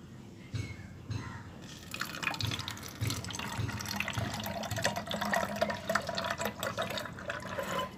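Panchagavya liquid is poured into an empty bottle, making a soft, close trickling and splashing stream that builds and continues for several seconds against quiet background noise.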